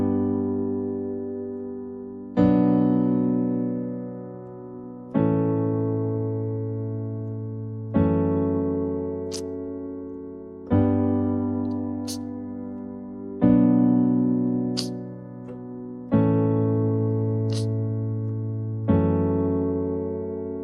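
A keyboard plays a 4-6-5-3 chord progression in an R&B style, eight sustained chords struck roughly every two and a half seconds, each ringing and slowly fading before the next, with no talking.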